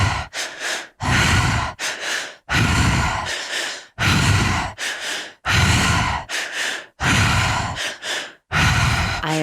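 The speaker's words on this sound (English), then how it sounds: "Keep the breath moving. Keep it circulating." Forceful rhythmic breathing during a guided breathwork exercise, deep loud inhales and exhales alternating in steady cycles with short gaps, close and continuous with no talking.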